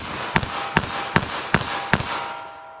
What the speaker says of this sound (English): I'm firing those off pretty quickly, and definitely a lot more muzzle jump.